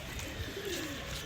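Pigeons kept in a coop in Rajkot, Gujarat give a single soft, low coo partway through, faint against a steady background hiss.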